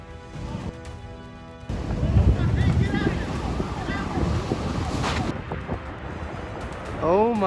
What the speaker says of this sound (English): A torrent of mud swept through the Oak Glen Steakhouse on Oak Glen Road